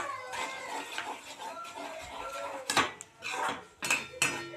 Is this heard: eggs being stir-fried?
yes